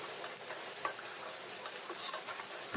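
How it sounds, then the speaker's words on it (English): Onions frying in a tablespoon of oil in a pan, a steady close sizzle with soft crackles and pops throughout, no voices. "I'm going to heat 1 tablespoon of oil in a pan, and I'm going to add the onions and fry them till they're nice and translucent."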